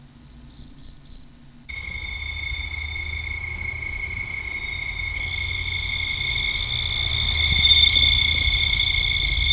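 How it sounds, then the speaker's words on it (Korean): Steady, continuous bell cricket chirring at night, a high ringing trill that swells slightly louder toward the end, with a short burst of three quick chirps at the start. "밤이면 낭낭한 소리로 우는 방울벌레"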